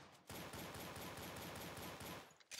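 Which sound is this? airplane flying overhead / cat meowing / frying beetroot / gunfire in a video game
gunfire in a video game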